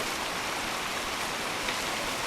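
A waterfall near Mount Emei roars as a dense, steady broadband rush of falling water, loud and close, with no voices over it.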